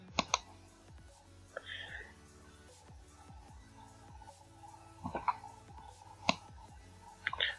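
A few sharp computer mouse clicks land sparsely on a quiet background, close and fairly faint, with soft room noise between them.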